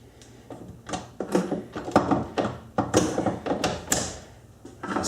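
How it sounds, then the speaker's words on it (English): A metal lathe turns a collet draw bar under a light cut, giving an irregular run of clanking, scraping mechanical noise at moderate level with no voices. "Sped up the lathe slightly"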